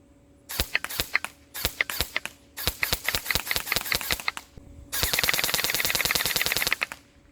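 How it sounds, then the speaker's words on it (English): An EMG Helios airsoft carbine rifle fires several rapid bursts, sharp repetitive cracking shots in short strings, then a longer sustained full-auto burst at a high fire rate, loud and close with no talk. "let's check on this fire rate"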